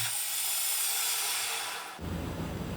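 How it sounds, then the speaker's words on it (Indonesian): A drill countersinking a 12 mm pivot-point hole in a homemade rotary table for a milling machine, giving a steady high-pitched grinding hiss that cuts off abruptly near the end, leaving a dull low rumble. "Setelah itu saya countersink."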